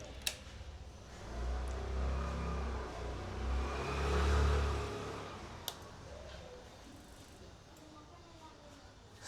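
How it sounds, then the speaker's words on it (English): A 2013 Honda CBR250R motorcycle's single engine turns over and settles into a low idle after an oil change, rising briefly in level mid-way, with a person speaking faintly over it. "then start the engine"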